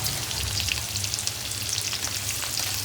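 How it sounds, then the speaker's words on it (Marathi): Crushed garlic and cumin seeds fry in a pan, a dense close sizzle crackling steadily throughout, stirred while browning. "एक चमचा जिरे टाकते आणि हा ठेचलेला मी लसूण ह्याच्यामध्ये टाकते आपण जरा तांबूस येईपर्यंत हलवायचा"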